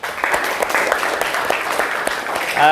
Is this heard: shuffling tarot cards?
no